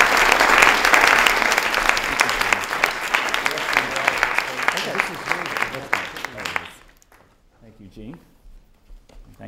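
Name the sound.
audience applause welcoming a speaker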